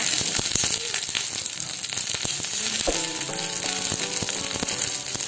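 Shallots, dried red chillies and curry leaves sautéing in hot oil for a Kerala tomato curry, a steady close sizzle with scattered crackles and spoon scrapes, and a few brief tonal clinks midway; no talk.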